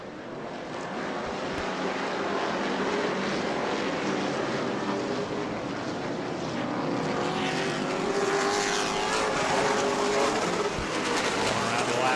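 Race cars lap an oval track at a charity race day in Auburndale, their engines a continuous loud roar that swells and fades as they pass.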